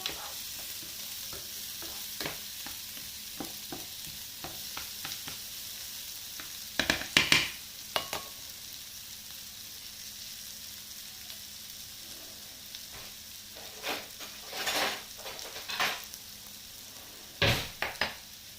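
Red onion fries quietly in a pan with a soft, steady sizzle, interrupted by occasional louder scraping and stirring clatters near the utensil.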